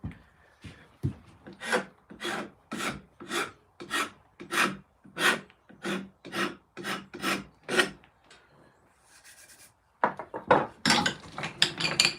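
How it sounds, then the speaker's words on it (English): Metal rubbing against an axe head, a steady series of about fifteen rasping, filing-like strokes in even rhythm, close and moderately loud, followed by a brief pause and a harsher burst of scraping at the end. "You can actually see where the metal is rubbing on the axe."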